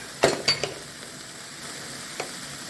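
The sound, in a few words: stir-frying red sweet pepper and green onion in Thai noodles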